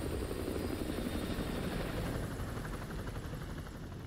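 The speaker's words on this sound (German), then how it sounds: "Feindlicher Heli auf Patrouille." Enemy helicopter on patrol in Call of Duty: Modern Warfare 2, a steady, loud rotor drone with dense low thumping that holds constant throughout, with no voices over it.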